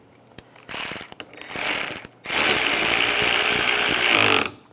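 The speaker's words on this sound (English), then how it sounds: "put these bolts in, get those started. And the ones down below." A ratchet clicks in quick bursts, then in one longer sustained run, close up, as headlight bolts are tightened on a 2006-2009 Mercedes-Benz E350.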